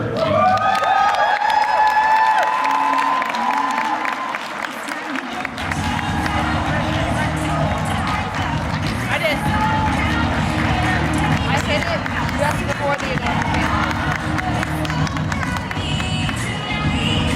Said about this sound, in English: Please take your seats and give a round of applause for exclusive Black Status presenter, Ella Whittaker.